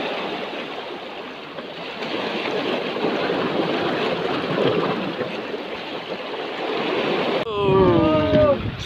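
Big ocean waves roll and crash in a continuous roar of surf with wind buffeting the microphone, and a voice briefly speaks near the end.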